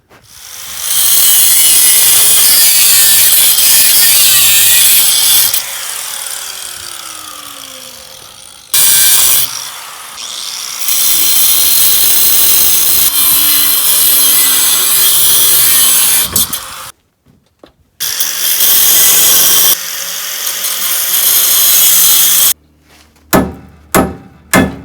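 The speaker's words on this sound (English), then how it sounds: "cut that, and the whole tow hitch should just fall straight down" Cutting through the steel tow hitch on a Ford Pinto with a power tool, loud sustained grinding and sawing in long bursts with brief pauses and a few sharp clanks near the end.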